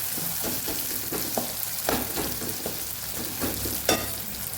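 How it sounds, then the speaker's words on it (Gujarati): Garlic chutney sizzles as it is sautéed in a pan for a methi papdi gathiya curry, a soft steady crackle of frying punctuated by scraping stirs and occasional sharper spatters. "લસણવાળી ચટણીને પણ સાતળી દઈશું"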